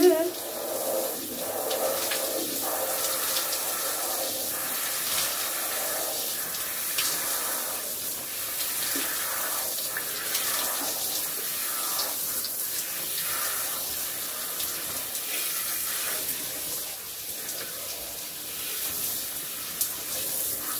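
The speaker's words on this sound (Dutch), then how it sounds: "Het is wel lekker onder een douche." Shower water runs steadily and close by as someone rinses off, a continuous hiss and patter that holds level for about twenty seconds with no talking.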